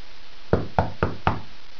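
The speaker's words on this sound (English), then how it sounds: "Here's an example outreach when door knocking." Four firm, evenly spaced knocks on a door land in quick succession after a short quiet moment, close and distinct with no voices.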